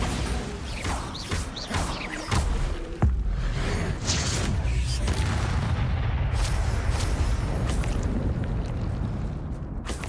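Bombarda spell blasts in the video game Hogwarts Legacy, heavy booming explosions over a loud, dense wash of continuous crashing noise, with no gaps of quiet.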